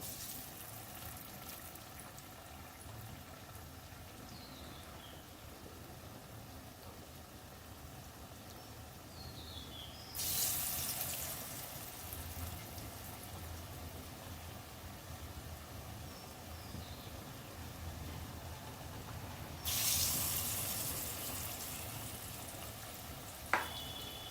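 Green jackfruit kofta balls fry in hot oil with a steady, soft sizzle and crackle that runs throughout, swelling into brighter hissing bursts twice, with no talking.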